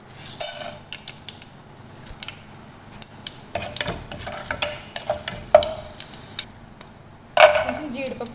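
Chana dal, urad dal and mustard seeds temper in hot oil in a pan, with a low sizzle under intermittent spoon scrapes and metallic clinks against the pot.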